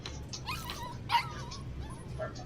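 A dog whimpers and yips in short, high, plaintive cries, fairly quiet against a low background hum.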